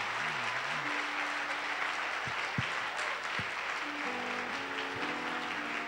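A church congregation applauds in praise, a dense, continuous clapping wash filling the room, with soft sustained musical tones and a few thumps underneath.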